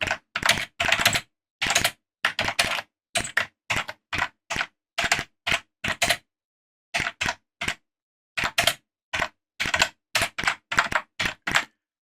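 A ZX Spectrum home computer keyboard is typed on in a word processor, giving sharp, close key clicks in short uneven bursts separated by brief pauses.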